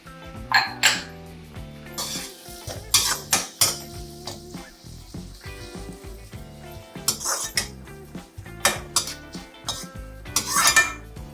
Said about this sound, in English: now in goes our chopped or minced garlic, followed it up with chopped onions, and now we fry it